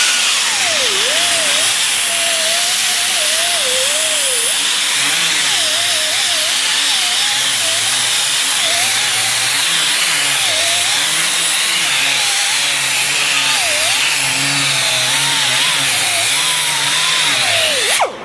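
A power sander works on the roof seam of a 1976 Charger, a loud continuous high whine that wavers in pitch as the tool is pressed and moved, running close and unbroken throughout.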